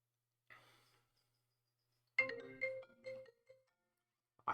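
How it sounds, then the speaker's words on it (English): An incoming-call phone ringtone plays in two short tonal bursts separated by silence, the second longer and brighter, heard alone and fairly faint. "I have a phone call."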